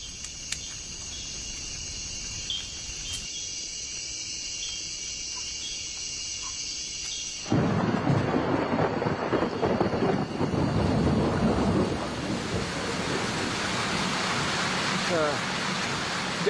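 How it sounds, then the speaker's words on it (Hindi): Steady insect chirring gives way to a sudden roar of heavy rain with rumbling thunder, loud and continuous to the end. "पिछले करीब 4 घंटों से बारिश हो रही है और बिजली चमक रही है, बादल गरज रहे हैं।"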